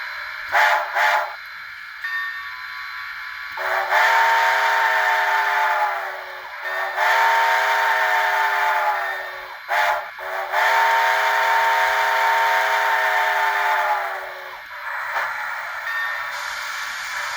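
Model Union Pacific 0-6-0 steam locomotive sound effects from an Economy sound decoder and Royal Master speaker: repeated steam whistle blasts of several seconds each, with short hissing bursts of steam between them.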